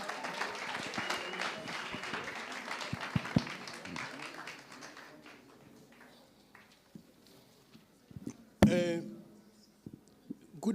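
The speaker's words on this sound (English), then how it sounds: "let's give them a round of applause." Applause from a conference audience for a heritage and human rights panel, moderately loud clapping that thins out after a few seconds, leaving scattered claps, handling bumps and a sharp thud in a quiet hall.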